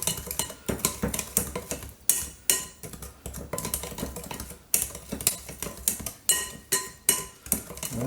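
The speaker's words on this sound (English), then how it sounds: "Mix all our wet ingredients." Utensil clinks and scrapes against a bowl as wet pancake ingredients and melted butter are mixed, a steady rhythm of close, fairly loud clattering strokes with brief pauses, no talking.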